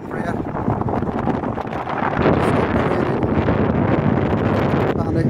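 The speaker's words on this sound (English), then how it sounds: "and it's still windy" Strong wind roars across the microphone on the beach at St Bees in Cumbria, loud, gusty rumbling buffeting that swells and persists throughout.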